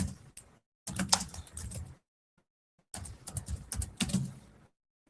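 Rapid keystrokes clatter on a computer keyboard in two dense bursts, close and crisp, split by a silent pause of about a second.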